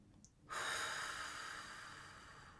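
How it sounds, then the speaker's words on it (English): Deep inhalation during a guided relaxation exercise: a soft, close breath of air that begins abruptly after a brief quiet moment, then slowly tapers while staying steady and unaccompanied by talk. "So now I want you to take a nice big deep breath."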